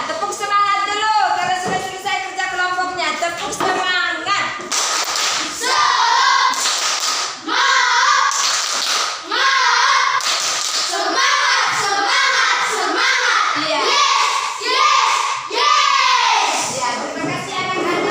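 A primary school class performs a rhythmic group clapping chant, children's voices calling out in unison with bursts of coordinated claps and thumps, loud and close, with the pattern repeating energetically throughout.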